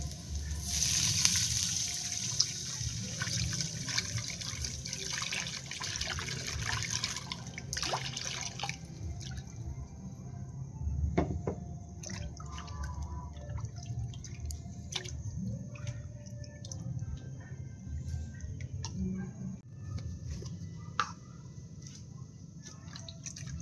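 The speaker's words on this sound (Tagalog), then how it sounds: "Yan, tubigan na natin." Water running and splashing into a cooking pot, a steady liquid pour early on that thins into scattered drips and light splashes, close and moderately loud, with no talking.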